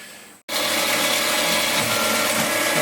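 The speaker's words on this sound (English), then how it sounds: "We've got the machine set up to do the finished boring of the inside of this sprocket for a magneto." A milling machine finish-boring the inside of a metal sprocket blank for a magneto starts abruptly after a brief silence, then runs as a loud, steady, dense mechanical whir and grind.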